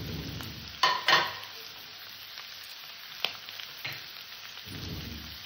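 Capsicum and green peas stir-fried for pasta, sizzling steadily in a pan with a few sharp utensil clacks and scrapes early on, then a softer continuous fry.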